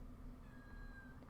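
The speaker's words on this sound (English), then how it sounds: "that is one of my cats whining" A pet cat whines faintly in the background of a quiet indoor room, one thin drawn-out meow rising then trailing off, distant and soft over a low hum.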